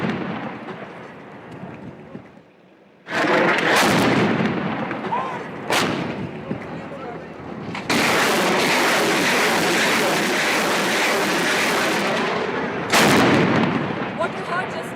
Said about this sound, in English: What you heard just now were Boffa's guns directly firing right on top of Tiger Hills.